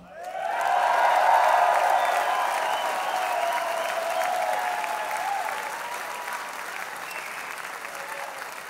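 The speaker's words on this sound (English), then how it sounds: "Can we get a huge, huge round of applause for you sluts?" A live concert audience at Koko breaks into a big round of sustained applause, loud and dense from the start, then easing slightly but holding steady throughout with a few scattered whoops.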